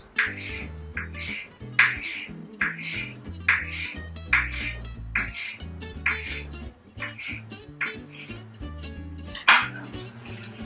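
A knife slices fresh basil into a julienne on a cutting board, making a steady series of crisp taps about every half second over soft background music.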